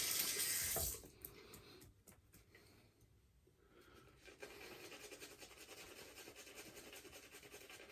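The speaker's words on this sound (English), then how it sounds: "Rinse my fingers." A tap runs while fingers are rinsed under it during a wet shave, a bright splashing gush at first that drops after about a second into quieter, uneven trickling and dripping nearby.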